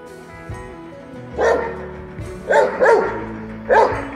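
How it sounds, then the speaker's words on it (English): A dog barks four times at irregular intervals, close and fairly loud, over a low steady hum. "Bark, Magic, bark."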